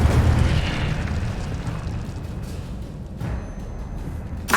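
Incendio fire spell cast in Hogwarts Legacy, a loud whooshing burst of flame that roars near and then slowly fades, ending in a sharp pop.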